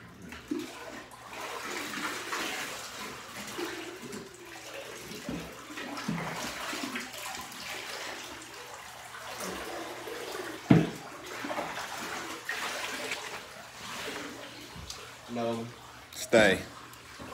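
Warm water pours into a plastic tote in a garage for a dog's late-night bath, a continuous splashing rush with a person talking over it and a brief sharp knock near the end.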